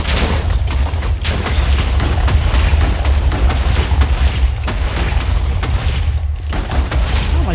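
Gunfire during combat in the video game Technomancer, with loud, rapid booming shots and thumps pounding almost without pause over a heavy low rumble.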